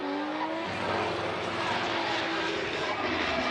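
A Toyota GR86 race car on Toyota tires accelerates at Fuji International Speedway during qualifying, giving a steady, distant engine drone mixed with broad track noise, and no voices.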